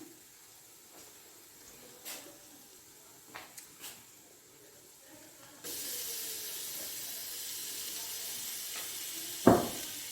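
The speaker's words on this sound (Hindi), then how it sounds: "और इसी में मैं डालूंगी अदरक और लहसुन" Ginger and garlic drop into hot oil in a pan for beef pulao, a sudden steady sizzle that starts midway after a few faint clinks and stays loud to the end, with a sharp clatter near the close.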